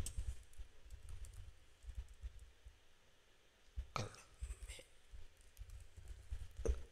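A few scattered, faint key taps on a computer keyboard while typing a command, over a low background rumble, with a slightly louder cluster of clicks midway.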